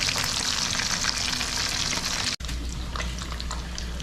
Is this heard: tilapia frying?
yes